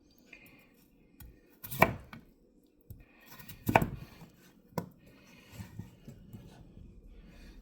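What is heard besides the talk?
knife chopping potatoes into quarters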